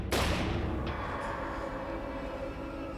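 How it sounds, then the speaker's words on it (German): A single loud, sharp gunshot-like blast rings out, followed by a long rumbling decay with no talking. "Die nächsten 4 Schüsse treffen."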